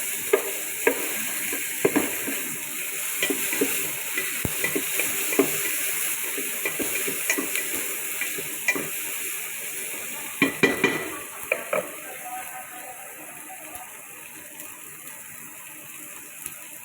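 Tomatoes sizzle and fry in a pan, with steady bubbling hiss and occasional stirring scrapes and clinks throughout, no voices.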